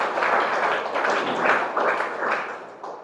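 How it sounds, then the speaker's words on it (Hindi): A crowd applauds at a DXN gathering, a dense, steady wash of many hands clapping that carries on for several seconds with small surges and a slight fade toward the end. "बताने वाले के लिए एक बार जोरदार ताली दीजिए"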